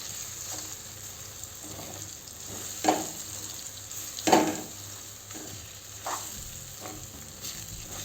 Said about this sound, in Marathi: कमी गॅसवरच फिरवू। आता चांगल्याने फिरवून घेऊ।